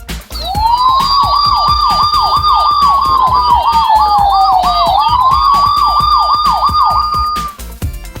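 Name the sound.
toy police siren sound effect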